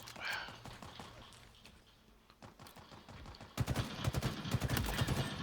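Battle rifle fire in Halo Infinite, with scattered sharp shots early and a denser run of loud, close bursts near the end, while a voice briefly speaks at the start.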